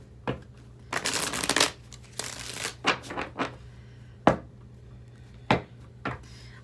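Tarot cards are shuffled in quick riffling bursts, followed by sharp single snaps and taps as the deck is squared, close and clear with no talking.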